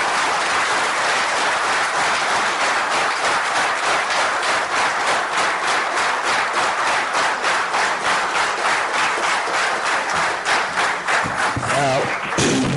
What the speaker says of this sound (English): Please put your hands together with a huge round of applause.